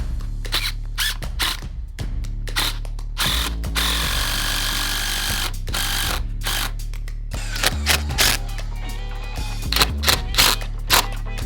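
A power drill drives screws into wood while an outdoor backyard bar is built, with several whirring bursts of a few seconds each, close by, separated by short gaps with handling clatter and knocks.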